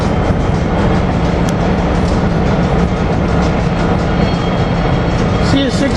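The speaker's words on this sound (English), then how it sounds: "A rolling work crane on the High Line, bypassing to get around to go do some yard work somewhere." A rolling work crane trundles along the High Line rail at 30th Street, a loud, steady rumble of rail noise with faint clacking, sustained for the whole stretch without pause.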